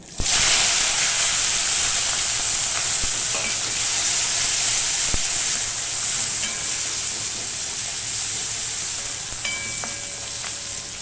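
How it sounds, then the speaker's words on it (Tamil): Onion, curry leaves and garlic hit hot oil after mustard seeds and fenugreek have sputtered, for a yam tamarind curry, producing a loud, continuous close sizzle with occasional sharp crackles and clicks; no voices. "கடுகு வெந்தயம் பொரிஞ்சிச்சு வெங்காயம் கருவேப்பிலை பூண்டு சேர்த்துக்கலாம்"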